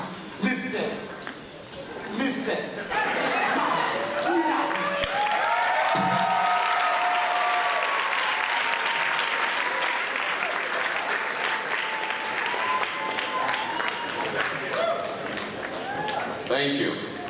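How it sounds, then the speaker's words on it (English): Enthusiastic applause from a graduation audience at Ashesi greeting the guest speaker, building quickly to a full sustained roar with some whoops and cheers mixed in, tapering near the end. "The kind of applause you've given me makes me feel like I'm graduating too."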